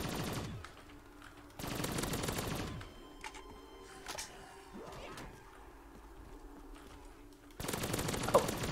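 Bursts of automatic gunfire from weapons in a Call of Duty Zombies game, several loud rapid volleys separated by quieter stretches of game ambience and scattered shots.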